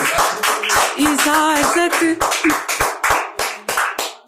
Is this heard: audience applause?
yes